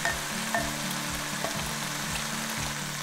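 Straw mushrooms and carrot stir-fry with sauce in a hot pan, a steady sizzle with recurring scrapes and clatters of stirring, close and continuous.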